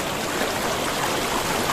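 Mountain river flowing in the Himalayan hills of Uttarakhand, a steady broadband rush of water holding even throughout with no voices.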